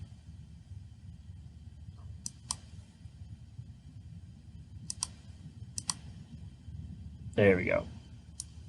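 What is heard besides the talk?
computer mouse clicking while working in Onshape CAD software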